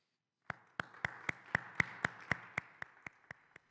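Audience hands clap in an even, brisk rhythm, about a dozen crisp claps spaced roughly a quarter second apart, close and clear with no voices.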